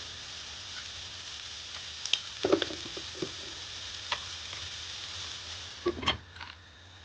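Vegetables frying over a high flame for chicken soup, a soft continuous sizzle beneath scattered sharp clinks and scrapes of a spoon stirring the pan, close and fairly quiet, with no talk.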